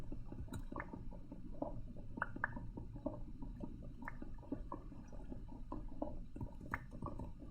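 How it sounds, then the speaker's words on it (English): Flowing water in Minecraft burbles faintly and steadily, with irregular soft drips and gurgles and no voices. "I hear water."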